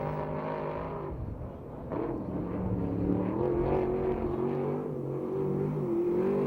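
A 410 sprint car at a USAC/CRA race at Perris, California, its engine droning with a rising, wavering pitch as it runs the track at a distance, fairly faint and steady throughout.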